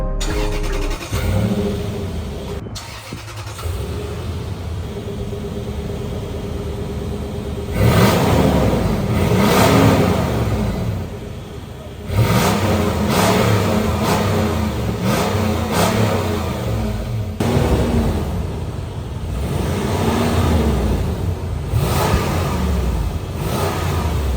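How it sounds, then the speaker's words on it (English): A Lexus GX470 V8 exhaust with the resonator removed idles with a deep burble, then revs up several times in loud, rising surges before settling back, no talking. "Now let's see what the new exhaust setup sounds like."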